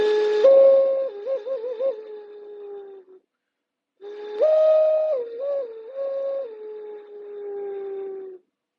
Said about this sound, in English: This is a functional whistle here too.